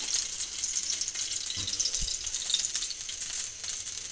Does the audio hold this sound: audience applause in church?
no